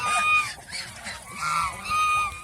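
Male geese honking nearby, several loud nasal calls in bursts with short pauses between them.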